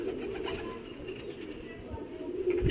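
Low, steady pigeon cooing fills the background, fairly close, while someone speaks over it.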